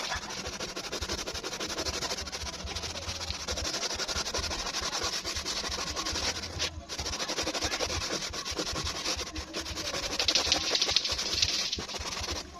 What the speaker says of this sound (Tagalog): Tapos po dito yan, kuskusin lang natin yung ganyan.